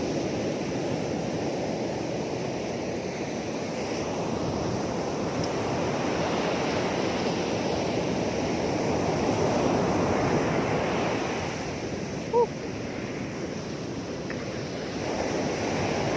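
Steady surf washes continuously onto the shore at Batu Kukumung Beach, Cidaun, a broad roaring hiss with gentle swells, mixed with some wind rumble and no voices.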